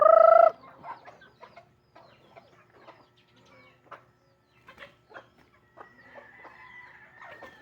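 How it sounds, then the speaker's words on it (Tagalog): Chickens being fed squabble and cluck at close range, a loud harsh squawk opening before scattered short clucks and calls, with a rooster-like drawn-out cry rising near the end. "Nag-aaway pa talaga sila pag nagpapakain ka ng manok."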